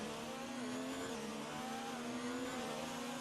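Race cars in a racing video game at Monza drone steadily around the track, engine notes shifting in pitch as they pass, heard faintly with no talking.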